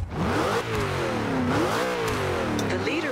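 A car engine revs in Forza Horizon 2 while drifting online, rising and falling in repeated loud surges of revving across a few seconds.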